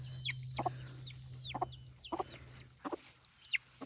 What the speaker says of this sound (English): Can you believe how big the chicks have gotten?